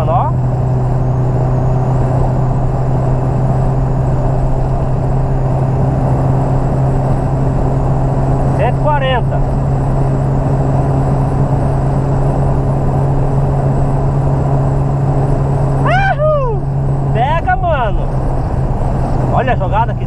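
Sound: VW Gol car engine accelerating hard, carburetor test

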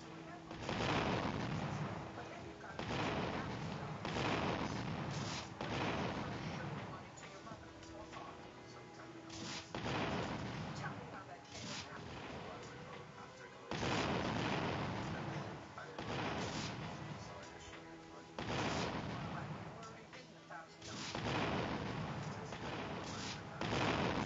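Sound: rocket launcher explosions in the video game Roblox

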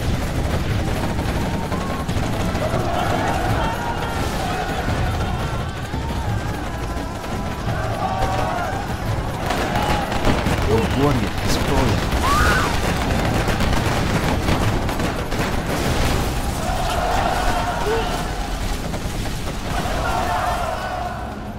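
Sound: quad cannon gunfire in Command & Conquer Generals video game

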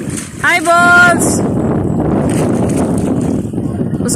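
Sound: strong wind

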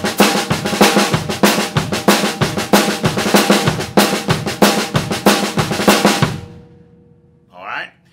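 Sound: drum kit train beat with doubled left hand

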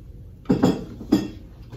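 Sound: flipping eggs in a wok with a spatula

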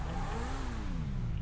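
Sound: Volkswagen Passat 2014 engine revving, from video game GTA 5

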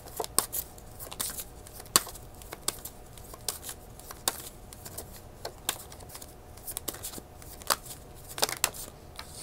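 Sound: shuffling tarot cards to draw another card

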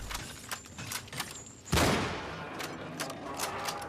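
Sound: gunfire in the video game Cryostasis

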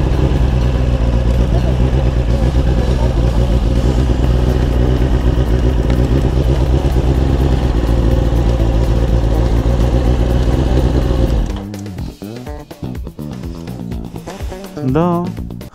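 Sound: moped engine while riding

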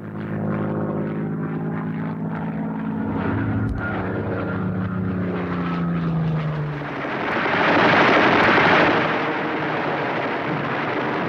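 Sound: Hawker Hurricane fighter aircraft propeller engine

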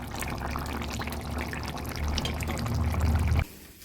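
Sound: fish curry with winter vegetables poured for serving

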